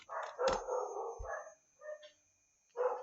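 A dog barks a few times nearby indoors, with short yipping and howling calls in separated bursts and brief gaps between them.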